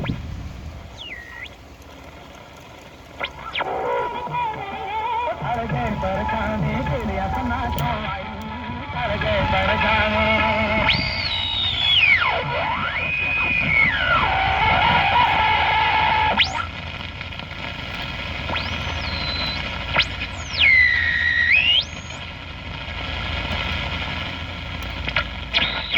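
Radio static and hiss with warbling, whistling tones sweeping up and down as a 1960 Rincan 5M-A2 tube radio is tuned across AM stations, steady and fairly loud.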